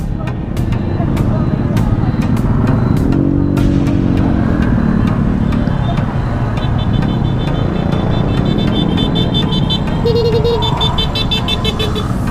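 Busy road traffic on Panganiban Bridge, cars and motorcycles passing close with a constant engine roar, repeated horn toots and honks scattered throughout, voices talking over it.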